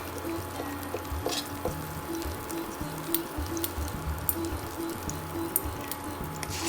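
Bay leaf sizzling in hot ghee, a steady low crackle of frying with faint clinks and bubbling, close and fairly quiet, no one talking.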